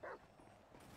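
A dog in GTA 5 gives a single short bark or yip, close and fairly loud at the start, followed by quiet game ambience.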